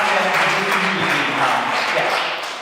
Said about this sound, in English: An applause for the children's jury.